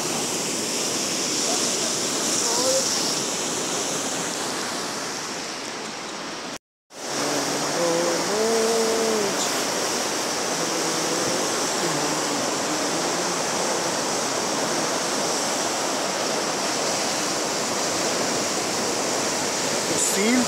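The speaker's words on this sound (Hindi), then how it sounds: "वादी को देखें बहुत ज़ोर से पानी आ रहा है, बहुत ज़्यादा आ रहा है।" Floodwater rushes strongly through a wadi near Al Huqain in Rustaq, Oman, a loud, steady, broadband roar that fills the whole stretch with a brief dropout partway, while a voice talks faintly over it.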